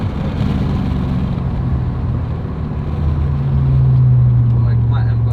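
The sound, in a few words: 900hp BMW M550 car at full throttle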